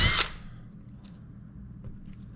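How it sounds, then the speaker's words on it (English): A power drill bores briefly into the wall of a vintage camper, its bit wrapped in tape as a depth stop. A loud quarter-second whir is followed by a low, quiet room hum. "I got a little piece of tape right here on my drill bit to keep me from going too deep so I don't go all the way through the wall."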